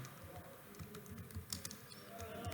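Typing on a computer keyboard while writing a C++ calculator program: faint, soft key clicks in an irregular patter over a low room hum.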